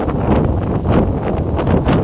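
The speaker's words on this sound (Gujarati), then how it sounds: "ખાસિયત છે ને બહુ પવન આવે" Strong gusting wind buffets the microphone with a loud, continuous roar and rumble, no voices.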